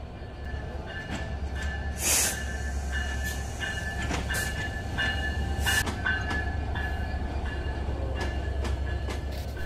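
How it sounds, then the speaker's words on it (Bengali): Rupashi Bangla Express passenger train pulling into Jessore junction, a steady low rumble of wagons rolling past with rhythmic clanking and a few sharp metallic squeals and clacks, fairly close and continuous throughout. "সুসজ্জিত অবস্থায় যশোর জংশনে প্রবেশ করে"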